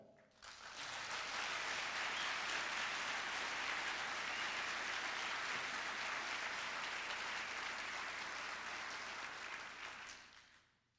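Audience at a university lecture breaks into sustained applause, a loud, dense wash of clapping that swells quickly, holds steady for several seconds, then tapers off.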